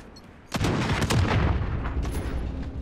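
Loud gunfire in a sniper-heavy Call of Duty Modern Warfare match: a sudden booming shot, then a dense, echoing rattle of further shots that trails off.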